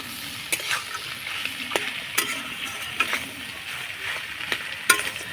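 A spiced filling with fried peanuts is stirred and sautéed in a pan, spoon scraping in steady strokes over a constant close sizzle, with sharper clacks at irregular intervals and no talking.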